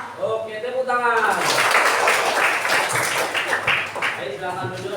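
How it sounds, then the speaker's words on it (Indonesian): Children in a classroom clap together in a dense burst lasting about three seconds, with a teacher's voice just before and after. "tepuk tangan."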